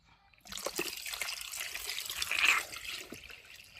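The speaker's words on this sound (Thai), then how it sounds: "แล้วก็เทน้ำลงไปครับ" Water pours steadily into the tank of an AH-652 evaporative air cooler, a close, continuous trickling splash that swells briefly before easing off, with no talk.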